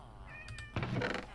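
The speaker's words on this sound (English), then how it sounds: "Lots of cats everywhere, as you can hear." Several cats meow in a Minecraft game world, a couple of high, tonal mews up close, followed by a soft knock-like thud and a short burst of busier noise at the end.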